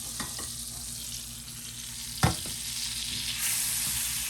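Butter sizzling and spitting in a very hot pan, a steady bright hiss with a few sharp utensil taps, one louder clack near the middle, heard close with no talking.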